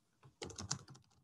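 Brief burst of typing on a computer keyboard, a handful of quick close key clicks, quiet and on their own.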